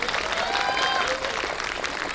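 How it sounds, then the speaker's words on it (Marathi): Audience applause fills the hall at a 2018 medical college convocation ceremony, a steady dense clapping throughout with voices faintly audible beneath it. "उपस्थित सर्वांचं एकदा जोरात टाळ्या वाजून स्वागत करा"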